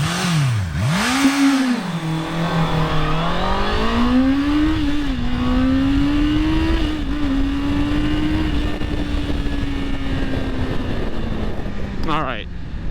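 Honda CBR650R sportbike with E-Clutch semi-automatic shifting, its inline-four engine loud and close as it accelerates through rising, dipping gear pulls, the pitch climbing steadily with brief drops at each shift before settling into a sustained high drone.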